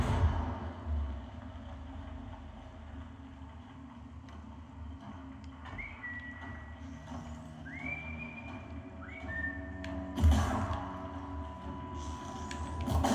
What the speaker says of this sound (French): Tu siffles, ils entendent pas.